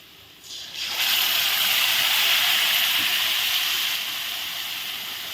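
Cumin paste hitting hot oil with fried potatoes sets off a loud, close hiss that erupts suddenly after a quiet second and holds steady, easing slightly as it goes on.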